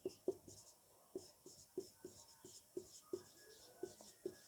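Chalk or marker taps and scratches across a board in an evenly spaced series of about a dozen short, crisp strokes, close and fairly quiet, with no talking.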